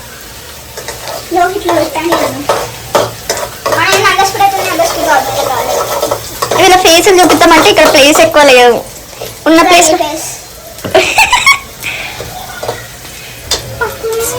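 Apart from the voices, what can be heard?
onions frying and sizzling in a pan while cooking Maggi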